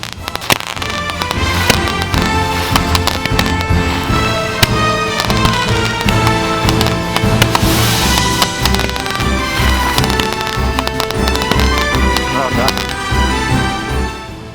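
Firecrackers burst in a rapid, continuous barrage of loud cracks and pops that barely let up, with voices faintly mixed in.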